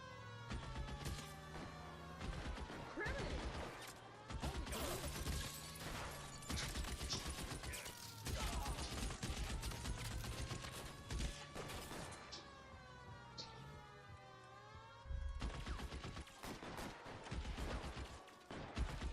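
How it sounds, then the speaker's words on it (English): Rapid bursts of gunfire and shots from a shootout in the video game L.A. Noire, dense and continuous over layered game music and effects, with several sharp loud cracks throughout. "Guys aren't gonna go quietly. Open fire!"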